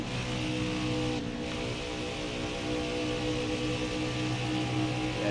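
Race cars roar in NASCAR Heat 5 at Las Vegas Motor Speedway, a steady loud engine drone with layered tones holding at high revs throughout, with no voices over it.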